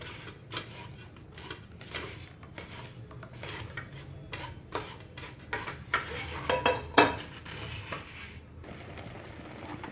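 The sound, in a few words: cooking and stirring tomato ketchup in a kadhai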